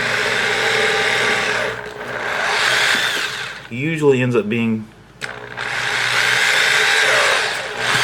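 A drill boring a hole in a plastic NES controller shell for the A and B buttons, a loud steady whine that runs, pauses while someone speaks briefly, then resumes close and continuous.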